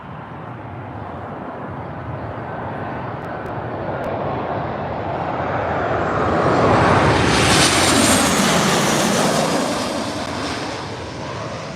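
A Ryanair jet airliner passes low and loud over Birmingham airport, its roar building steadily to a broad rushing peak midway through, then easing off slightly as it moves away.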